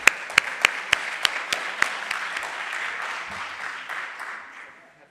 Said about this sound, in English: applause for the rapporteur who volunteered.